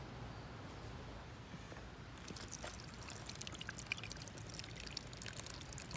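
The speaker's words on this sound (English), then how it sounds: "Next, we're gonna put beef broth in it." Beef broth pours steadily into a Dutch oven of stew, a continuous close splashing pour that grows brighter and more sputtering partway through as the liquid keeps flowing.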